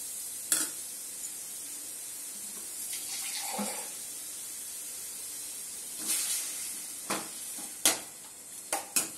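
Potatoes and beetroot cooking in a pan with a little water give a soft, steady hiss and bubbling throughout, with a few sharper stirring clinks and splashes near the end.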